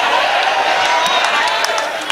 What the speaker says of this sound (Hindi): जोरदार तालियों से इस्तकबाल करें मोहतरमा चांदनी